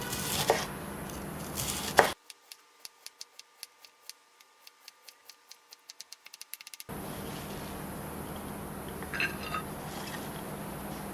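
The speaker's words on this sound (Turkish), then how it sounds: "Şimdi ince ince doğrayacağım." A knife chops purslane finely and steadily on a cutting board, a series of crisp regular taps that speed up slightly, set between stretches of background hiss.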